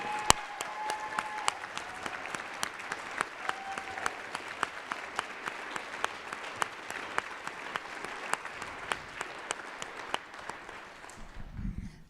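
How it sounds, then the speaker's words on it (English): An audience at a congressional candidate forum in Utah gives steady applause for a World War II veteran, with the clapping holding for about twelve seconds at moderate distance before tapering off at the end. "Can we just give him a round of applause?"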